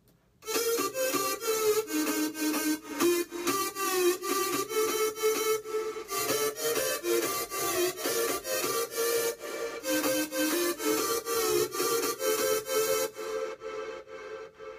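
A soloed synth layer in a remix drop plays double notes as a steady run of evenly spaced, bright stabs, loud and continuous with no voices, before trailing off near the end.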